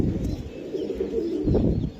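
A female Shiyalkuti pigeon cooing among other birds in a loft, low warbling coos rising and falling continuously at close range with no talk.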